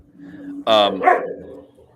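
A dog gives a couple of short, close barks, one sharp yelp followed by a second shorter bark, over quiet room background.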